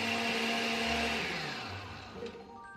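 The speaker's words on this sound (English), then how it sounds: "when you are doing this kind of blending something" A kitchen blender running while grinding ingredients for Nigerian home cooking, a close, loud whirring motor whine that gradually winds down and slows over a few seconds.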